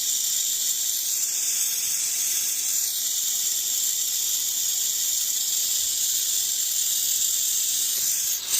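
A steam cleaner blasts steam through a car's air vents during a mold cleanup, a loud, continuous high-pitched hiss that stays steady and close for several seconds with no voices.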